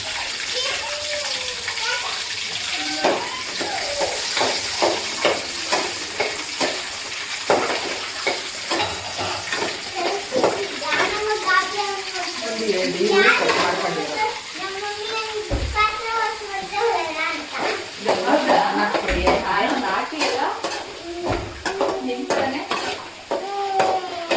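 Green chillies fry for biryani in a home kitchen pan, a steady sizzle with repeated scraping and stirring strokes throughout, as someone talks over the cooking.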